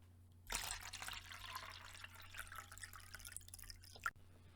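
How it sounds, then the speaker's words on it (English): Filtered water pours into a tall cup, a bright liquid trickle and splash starting abruptly and running steadily for several seconds before a final clink near the end, over a low steady background hum. "That is the sound of crisp, clear, clean, filtered water, pouring into a nice tall cup."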